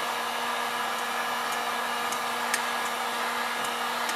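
A heat gun blows steadily on a car bumper during fender rolling, making a constant loud whooshing hum with a faint tonal whine and a few small ticks, and nothing else over it.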